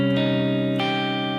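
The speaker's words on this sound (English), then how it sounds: "because if you add the flat ninth, it would sound like this," Minor chord voicing with an added flat ninth, a sustained electric chord with a slightly distorted, chorused tone, struck twice in quick succession and ringing on with dense, tense overtones.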